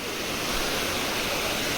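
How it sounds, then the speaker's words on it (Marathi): A small stream on the Kalsubai trek trail, running low after two dry days, gives a steady, close rushing hiss of flowing water, unbroken and without voices. "हा आपल्या येताना इथे पहिलाच ओढा लागतो."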